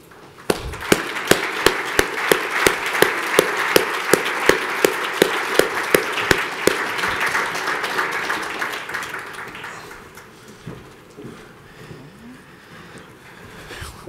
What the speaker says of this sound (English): perhaps if you could all welcome them with applause